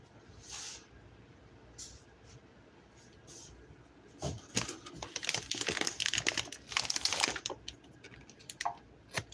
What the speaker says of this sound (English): Let me get the scissors.